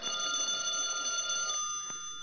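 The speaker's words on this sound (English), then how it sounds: "Answer the phone." An old-time telephone bell rings steadily for about two seconds as a sound effect in a vintage radio comedy, with no one speaking.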